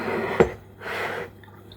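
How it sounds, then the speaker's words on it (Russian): Water is poured into a jar of cucumbers being pickled with salt: a short knock, then about half a second of soft, close-up running pour that quickly fades. "Заливаю воду"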